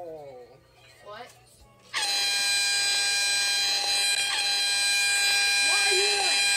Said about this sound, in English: Today we are going to be playing some air horn.